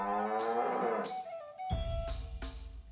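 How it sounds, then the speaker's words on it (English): A mad cow moos in South Park: The Stick of Truth, several loud drawn-out bellows in a row, close and alone with no talk over them. "Stun the mad cow."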